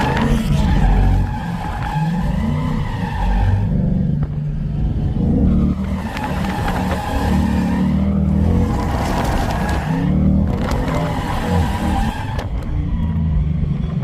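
Loud, sustained tire squeal from a car sliding sideways, with engine revving and roaring throughout, the screech rising and falling in long waves.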